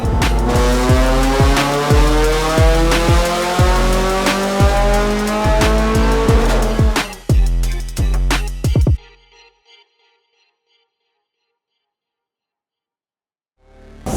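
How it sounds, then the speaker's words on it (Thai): Loud rally car exhaust for dirt-track racing roaring through rapid upshifts as the engine climbs and drops repeatedly, then cuts off into near silence. "ทำไมรถแรลลี่แข่งทางฝุ่นเสียงท่อต้องดัง"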